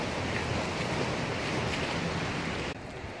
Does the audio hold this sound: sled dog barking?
no